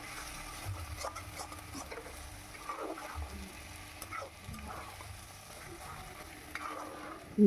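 A squash ghonto cooks in a pan with a soft, continuous sizzle while a spoon stirs and scrapes through it in scattered taps, fairly faint and close.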